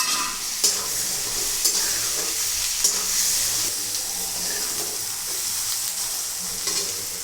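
Mint leaves sizzle and fry in a pan of masala rice base as a spoon stirs them, with steady crackling and a few scraping knocks of the stirring throughout.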